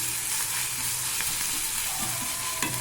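Ginger and garlic sauté in hot oil in a pan for pepper chicken, giving a steady, loud sizzle and fry with faint stirring scrapes, no talking.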